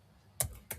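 Two crisp keystrokes on a computer keyboard, close and distinct, a fraction of a second apart, with no talking.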